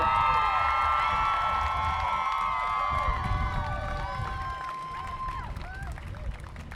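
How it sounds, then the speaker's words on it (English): An outdoor crowd at a student climate strike in Austin claps and cheers loudly and continuously, with shouts and high whoops rising above the applause before it gradually thins out. "Please give her another round of applause."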